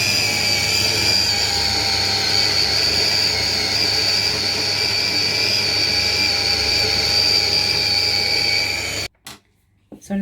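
A food processor grinds chunks of meat for Jamaican meatloaf with a loud, steady, high-pitched motor whine close up. It runs continuously for about nine seconds before cutting off abruptly, leaving a few faint clicks.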